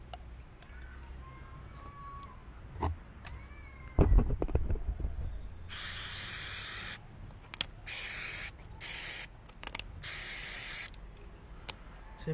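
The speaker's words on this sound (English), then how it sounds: "Some brake cleaner on them." Aerosol brake cleaner sprayed onto car front brake pads and calipers in several loud hissing blasts, each lasting a second or two, with quiet workshop clatter between them.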